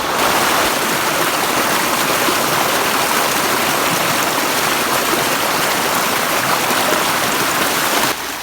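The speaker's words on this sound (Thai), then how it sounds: "เบิ้งน้ำไหลเนี่ย" A forest stream flowing along a path during rain, a steady, full rushing wash of water close by that runs unbroken throughout, with no voices over it.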